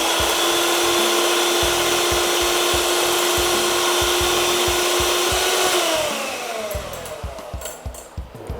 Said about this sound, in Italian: Andiamo a montare leggermente gli albumi.